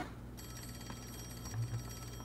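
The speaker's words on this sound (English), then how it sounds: "Alright, let's answer the phone." A phone rings in the video game Travis Strikes Again, a faint steady electronic ringing tone that starts a moment in and continues over low background game ambience.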